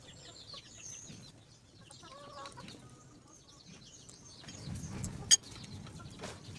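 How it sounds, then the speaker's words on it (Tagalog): Chickens clucking softly and intermittently outdoors, with a sharp brief squawk near the end amid light background noise. "ay maraming manok"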